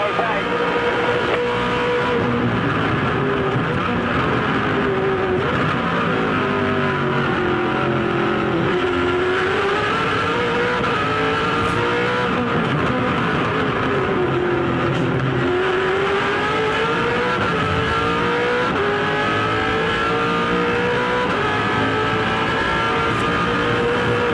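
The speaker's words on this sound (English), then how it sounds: "Let's go for a ride with Craig Lowndes. Team Vodafone 888 car, 4th on the road" Onboard a 2007 V8 Supercar, the Team Vodafone 888 car, running fourth on the road during a championship race round: a loud, sustained V8 engine roar with rising and falling revs through gear changes, filling the whole lap without pause.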